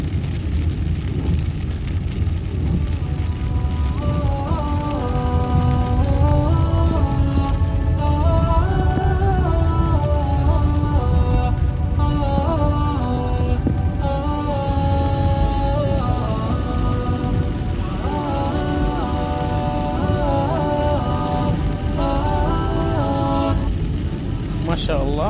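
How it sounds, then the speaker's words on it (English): Very heavy rain pours steadily on the streets of Madinah, a dense, continuous roar with passing traffic and a tonal melody running through it. "it is a very heavy rain over here in Medina today"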